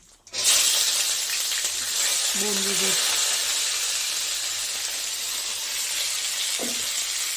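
Onion, green chilli, tomato and lightly boiled potato fry in a pan with a steady, loud sizzle that starts suddenly and carries on evenly, while a voice speaks briefly over it.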